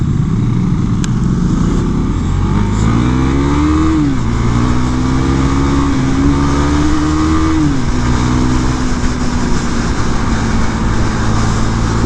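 A Husqvarna Svartpilen 401 motorcycle engine revs loud and close, the pitch rising and falling through repeated throttle blips over a steady idle rumble.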